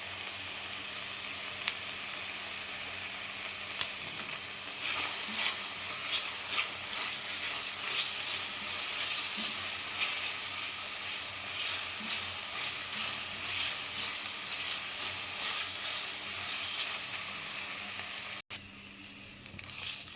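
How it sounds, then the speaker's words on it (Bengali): Onion, garlic and ginger fry with a bay leaf and green chilies in oil left over from frying potatoes, a steady close sizzle with crackles that swells midway, with no one speaking. "এখন এই আলু ভাজার তেলের মধ্যে"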